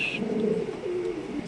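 A high-quality Mundian pigeon gives a single low, drawn-out coo close at hand, with no talk over it.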